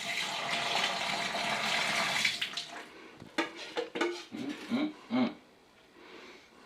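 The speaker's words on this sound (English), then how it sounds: "Rinse out the can real good." Water rushes steadily while an empty beer kit can is rinsed out, a loud continuous gush for about three seconds, then cut off and followed by a few short splashes and sloshes.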